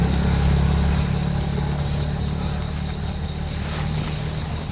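A motorboat engine drones steadily nearby, a low rumbling hum that eases slightly in loudness as it continues without a break.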